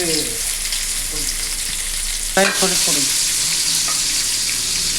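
Cut okra frying in hot oil, a loud, dense, continuous sizzle close up, with a sharper crackling burst partway through as more pieces hit the oil; no talking.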